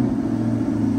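A 2023 Chevrolet Corvette with a 6.2-liter V8, started by remote, idles with a steady, loud, low rumble up close.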